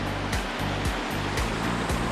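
Shallow water rushes steadily over rocks in Montana Creek near Talkeetna, Alaska, a dense continuous wash heard up close, with a few soft thumps of wind or handling cutting through and no voices.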